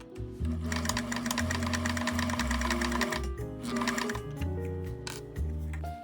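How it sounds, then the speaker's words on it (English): Sewing machine stitching a test piece of garment fabric with an overlock stitch, running in a rapid close-up mechanical chatter that speeds and slows in several bursts, with no talking. "Before I actually start sewing the garment, you'll see me do a little test piece right here with the same type of fabric just to make sure it works."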